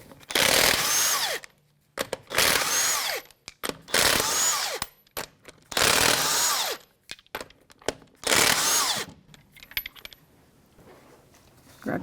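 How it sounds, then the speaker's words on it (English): A power tool spins lug nuts off a 2011-2017 Honda Odyssey wheel with a 22mm socket, five loud, close bursts of whirring and rattling, each about a second long, separated by short pauses and small clicks. "22mm socket to remove the lug nuts."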